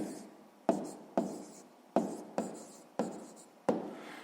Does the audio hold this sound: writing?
yes